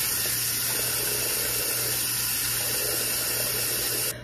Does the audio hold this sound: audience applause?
no